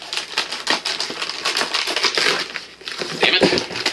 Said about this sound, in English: let me get the box cut, or get the bag cut open here.